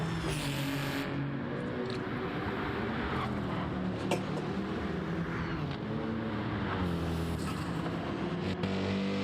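Race cars competing in the Nürburgring 24H qualifier race, including a Ferrari and a BMW, a steady dense engine roar with cars passing, heard from a distance throughout without pause.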